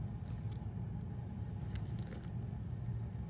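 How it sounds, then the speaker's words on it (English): A dinosaur keychain, or zipper pull, on seatbelt webbing jangles in soft metallic clicks, faint and close over a low background rumble. "This is a dinosaur keychain or zipper pull."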